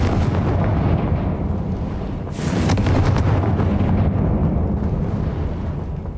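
Confringo blasting spell explosions in Hogwarts Legacy: dense, loud booming blasts that run continuously with a sharper burst in the middle, no talk over them.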